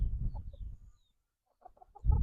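Low, soft clucking from chickens near fruit trees, a few short bursts separated by a brief quiet gap, with no one speaking.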